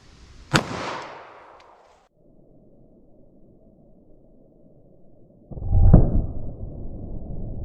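A single sharp gunshot as a .45 ACP round is fired into a ballistic test medium, loud and close with a short decaying tail. A second heavy impulse follows a few seconds later, then a lingering rumble.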